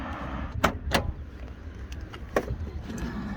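A Morris car driving along twisty A roads, heard from inside as a low steady engine and road rumble with a few sharp clicks and rattles.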